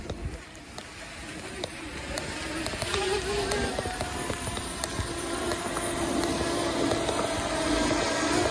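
A camera drone descends quickly in sport mode on a damp day, its propellers giving a continuous high buzz that rises steadily in loudness as it comes closer, with some faint background noise.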